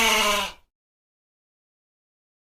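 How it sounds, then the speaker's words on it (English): A goat lets out one short, bright bleat lasting about half a second, followed by silence until the start of another cry right at the end. "goat."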